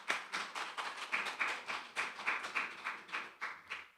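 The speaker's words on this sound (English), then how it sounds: "let us give ourselves a very big round of applause." Sparse clapping at a national consultation on domestic violence, a handful of hands beating out separate, fairly even claps at moderate distance, thin and faint rather than a full ovation.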